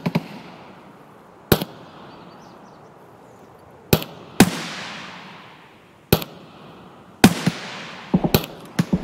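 Sharp, loud gunshots from an Escape From Tarkov match, in single cracks spaced irregularly across several seconds, with a quick flurry near the end and a dull room ambience between shots.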